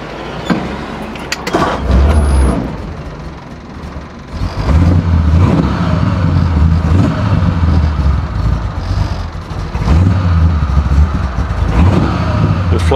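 A 1948 Ford convertible with a 286 cubic inch flathead V8 and a mild cam, heard close up as it idles in a steady low rumble and is revved in several throaty bursts.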